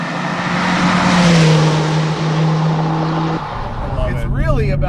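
A 1988 Porsche 944 Turbo S engine pulling hard up a hill, a loud sustained drone with rising pitch and a gear shift, heard from inside the car as people talk over it.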